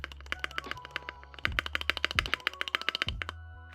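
Spacebar on a Nuphy Halo 65 keyboard fitted with O-rings, tapped repeatedly in a steady run of sharp, close clacks with a slight rattle, each press distinct and unaccompanied by talk.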